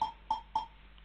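A clean BandLab percussion sample with no bit crushing gives three quick, tonal, woody taps in an even rhythm, followed by a faint fourth echo.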